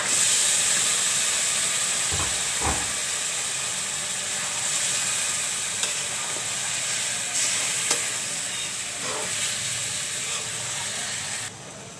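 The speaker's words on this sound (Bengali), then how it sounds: "এখন আমি গোশগুলো ঢেলে দিব।" Beef goes into a pan of hot fried spices for a beef and potato curry, giving a steady, loud sizzle with a couple of soft thuds from the pour early on and a brief louder surge near the end.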